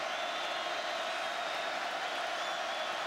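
Dense, steady roar of a stadium crowd at a Notre Dame college football game against Utah, loud and unbroken throughout with no distinct voices standing out.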